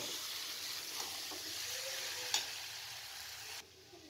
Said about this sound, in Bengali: এবার ভালো করে একটু নাড়াচাড়া করে নেব।